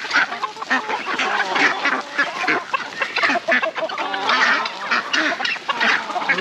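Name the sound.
ducks quacking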